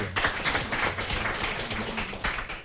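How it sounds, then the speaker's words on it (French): Studio audience on a French TV quiz show applauding a contestant, a steady wash of clapping at moderate volume with no talking over it. "Super, on l'applaudit"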